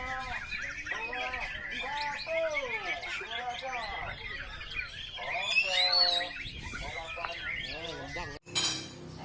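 A white-rumped shama sings a rich, varied song of rapid whistles and rising and falling phrases, close and loud, with other birds faintly around and a brief interruption near the end.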